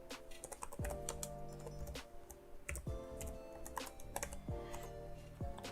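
Close, quiet typing on a computer keyboard as a Linux command is entered, with quick irregular key clicks in short bursts and a few heavier strokes, without speech.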